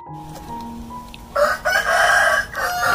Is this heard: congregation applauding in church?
no